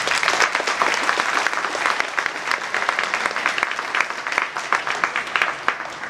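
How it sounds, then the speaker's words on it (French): An audience at a table tennis player presentation in Franche-Comté claps steadily and fairly loudly, with individual claps crackling through a continuous rhythmic patter for about six seconds. "Merci d'applaudir Robert Gardos"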